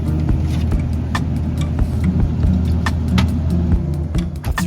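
A car drives along with a steady, close engine rumble and road noise, punctuated by frequent small clicks and rattles from inside the cabin.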